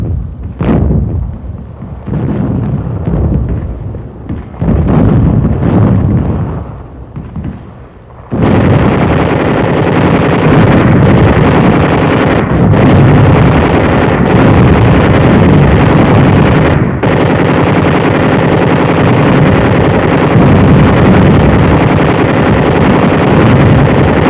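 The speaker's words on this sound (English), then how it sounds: "armored vehicles of General Courtney Hodges' First Army opened fire on the French town of Dercy" Armored vehicles fire on a French town during a World War II drive: sharp, loud blasts and bursts come first, then a dense, continuous roar of gunfire and explosions that carries on without a break.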